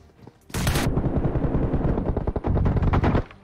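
Rapid automatic gunfire from a shooting video game, with a sharp opening blast followed by dense bursts of shots that rattle continuously for about three seconds, loud and close.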